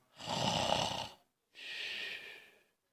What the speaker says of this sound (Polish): Nazajutrz Gaweł jeszcze smacznie chrapie